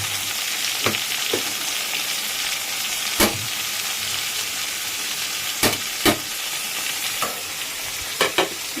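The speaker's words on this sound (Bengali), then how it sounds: "এটা একটুখানি ভাজা ভাজা হবে।" Fish frying in a pan for a Bengali fish curry, a loud steady sizzle with sharp clicks and scrapes of stirring scattered throughout, close and without speech.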